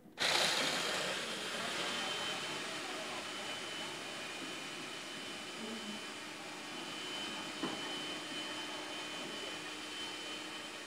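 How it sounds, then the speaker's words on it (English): A food processor grinding walnuts into a fine powder gives a steady, even whir that runs throughout at moderate distance and volume. "We're going to blend these walnuts."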